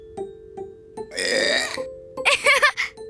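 A cartoonish burp rolls out long and loud, followed after a short pause by a second gurgling belch, with faint musical tones between.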